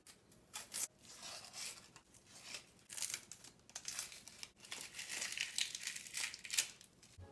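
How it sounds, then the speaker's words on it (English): Papery onion skin being peeled off by hand, a steady crinkling and crackling rustle with short pauses, close and fairly loud, with no talking. "cut off the top and then peel all of the skin off."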